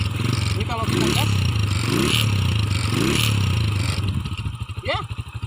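A Honda Supra X motorcycle engine with a modified exhaust and clutch revs loudly close by, rising in repeated throttle blips before settling to a lumpy idle.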